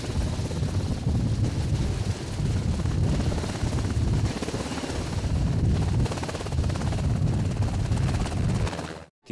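A military helicopter arriving near a children's camp in a Slovak village, its rotor thudding and engine roaring loud and steady throughout, close by and unbroken until it cuts off at the very end.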